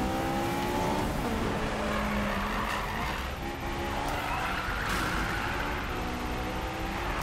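A car drifts in Need For Speed 2015, its engine droning steadily with tire squeal and skidding noise running throughout, loud and close with no voices.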